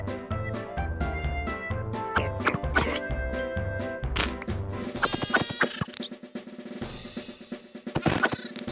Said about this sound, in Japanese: 目の前に羊と豚が。